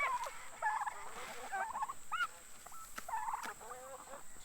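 A turkey gobbles in quick warbling bursts, repeated several times at moderate distance amid other bird noises and light background hiss.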